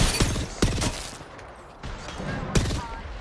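Gunfire in an Apex Legends ranked match, several loud, sharp shots in quick separate bursts, close and punchy, with game sounds filling the gaps.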